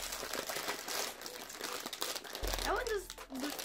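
A plastic bag of Indian sweet and sour snack mix crinkles and crackles faintly in handling, mixed with soft background voices.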